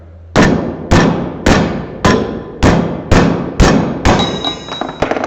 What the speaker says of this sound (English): And I'm going to hit it with a hammer.